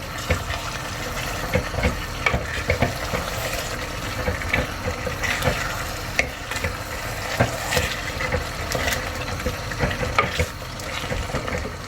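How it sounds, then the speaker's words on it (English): Rempah spice paste sizzles and crackles in a hot pot for a Peranakan stew, with frequent stirring scrapes and small pops throughout, close up and steady. "listening to the wonderful music of rempah sizzling in the pot"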